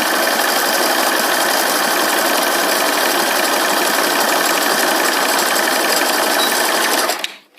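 Sewing machine running a short zigzag stitch to join two butted fabric edges for pajama pants: a loud, steady mechanical whir for about seven seconds, then it stops.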